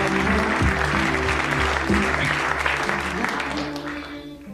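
A studio audience at a BBC Radio 4 comedy show applauds loudly, a dense sustained wash of clapping with voices and music beneath it, slowly fading toward the end.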